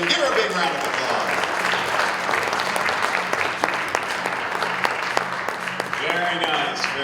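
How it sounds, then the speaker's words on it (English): A pageant audience claps steadily for a contestant, a dense, even wall of applause throughout, with an announcer speaking over the clapping. "Give her a big round of applause."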